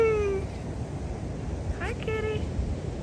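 Two short cat meows, one at the start and another about two seconds later, over a soft breezy outdoor background.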